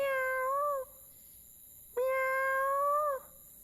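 A person imitates a cat, giving two drawn-out meows separated by a short pause, clear and close.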